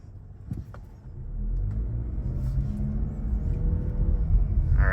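A 2024 Mazda CX-50 pulls away from a dead stop, its low engine rumble swelling steadily over a few seconds, heard from inside the cabin.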